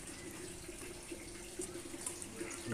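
Raw mangoes being rinsed two or three times in water, faint splashing and running water close by, quiet and brief, with no talking.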